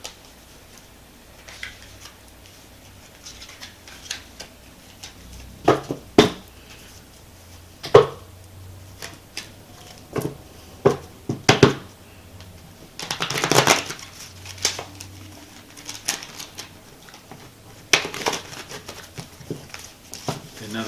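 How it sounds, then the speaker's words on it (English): Tarot cards are shuffled by hand in scattered bursts of quick riffling and tapping, with quiet pauses between them and a person speaking softly at times. "to mix these cards in."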